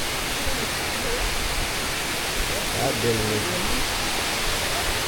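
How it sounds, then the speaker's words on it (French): A waterfall seen up close on a trek in Vietnam gives a steady, loud broadband rush that fills the whole clip, with a brief spoken exclamation over it. "Alors on va voir la cascade de plus près."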